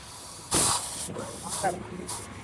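Sharp bursts of pressurized gas hiss out three times from a soda-making machine at a lemon soda stall, the first loudest, with quieter hissing in between.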